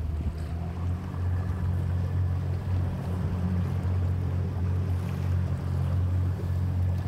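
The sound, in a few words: sea waves around a sea urchin dredging boat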